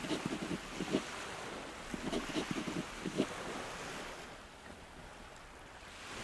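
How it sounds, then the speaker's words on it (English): Gentle waves lap under a small boat bobbing on a quiet bay in the video game Nier Reincarnation, a soft steady wash with faint splashes in the first few seconds, then easing off. "The small boat the thief prepared beforehand bobs gently on the water."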